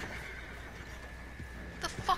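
A horse in the video game Red Dead Redemption 2 lets out a short whinny near the end, preceded by soft hoof clip-clops over quiet ambient game sound.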